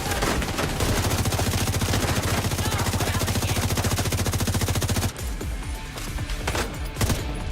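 A long, steady burst of automatic gunfire rattles loud and close in The Division, its rapid shots running unbroken for about five seconds before cutting off into scattered, quieter shots and clatter.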